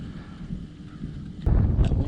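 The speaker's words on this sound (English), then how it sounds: "The wind is picking up." Wind blowing over a Central Texas lake, a low rumbling buffet on the microphone that swells into a stronger gust near the end, with no voices.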